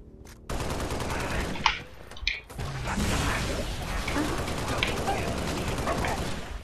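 Rapid assault rifle fire in Halo: Reach Firefight, a dense continuous stream of shots with a couple of louder bursts, dominating throughout with busy game effects underneath.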